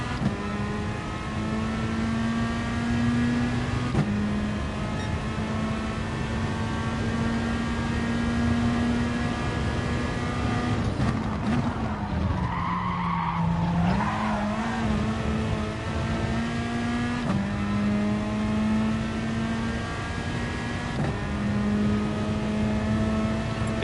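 A Ferrari race car in a racing video game revs hard with a steady, loud engine drone and audible gear shifts. A brief rougher, scrabbling patch in the middle could be a skid, and the engine runs continuously throughout.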